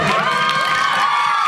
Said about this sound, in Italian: forza, un applauso a lei